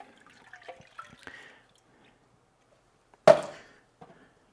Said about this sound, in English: We'll pour that in.